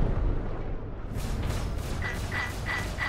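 An enemy Vanduul ship blows up during a co-op swarm fight in Star Citizen's Arena Commander, a muffled rumbling blast followed by a series of short pulsing electronic tones.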